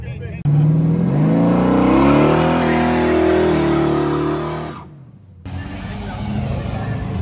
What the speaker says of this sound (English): It's just a burnout show for this video, so sit back and enjoy.